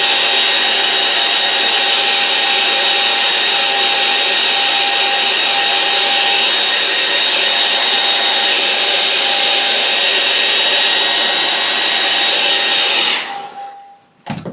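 A hair dryer blows steadily on wet acrylic paint, a loud continuous whooshing drone with a faint tonal whine that runs unbroken for about thirteen seconds before cutting off abruptly.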